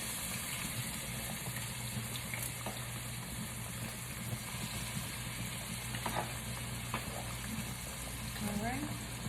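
Onions and peppers tumble into a hot pan for plant-based spaghetti sauce, bringing a soft sizzle and stirring clatter over a steady background hum while someone talks nearby.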